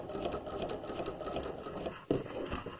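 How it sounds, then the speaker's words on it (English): Sewing machine stitching along the crotch seam of fabric pajama pants, a steady close mechanical whir with rapid rattling needle strokes and a brief thump near the end. "And then we're going to stitch following the edge of the fabric."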